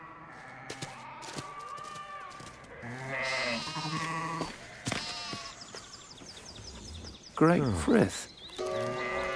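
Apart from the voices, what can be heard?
flock of sheep bleating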